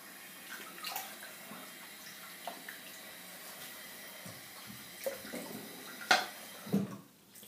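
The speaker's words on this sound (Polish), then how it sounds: "Spłuczę twarz." Water runs from a tap as a man rinses his face after shaving, a soft steady trickle broken by a few splashes and louder sloshes near the end, with no speech.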